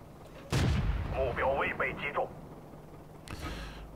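Artillery fire in the World of Tanks video game lands as a heavy, booming shot, then a voice speaks briefly before a second, fainter blast rumbles near the end.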